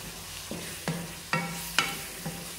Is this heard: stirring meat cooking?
yes